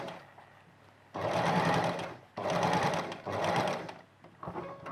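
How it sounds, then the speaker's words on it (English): Sewing machine stitching along a fabric edge in two close, steady buzzing runs of about a second each, split by a short pause and followed by softer start-stop whirring. "we come back to the stitching here and we just go along the edge"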